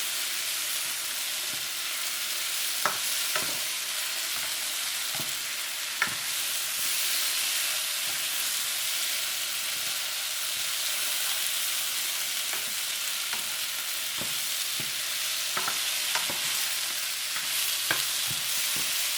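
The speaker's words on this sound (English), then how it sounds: "And now we're gonna put the shrimp in it." Shrimp and sugar snap peas frying in a hot pan: a steady, dense sizzle runs throughout, broken by occasional small pops and utensil clicks, close up, with no voices.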